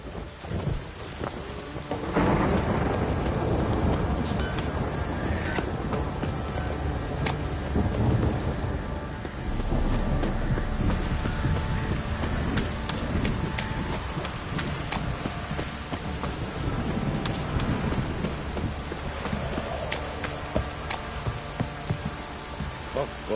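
Steady heavy rain with rolling, rumbling thunder in The Witcher 3: Wild Hunt, a dense continuous downpour that swells after the first couple of seconds and stays loud throughout.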